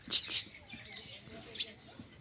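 A house sparrow chirps near its nest in a village setting, giving a few short, high-pitched chirps at the start, with faint, sparse twittering after that.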